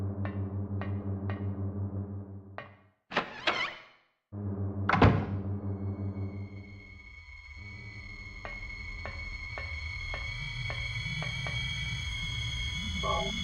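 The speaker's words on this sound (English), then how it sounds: "Alright, time to check doors." Doors are tried in Silent Hill 1: a few heavy clunks and rattling thuds from locked doors over a droning ambient hum, followed by a quieter stretch of low rumbling.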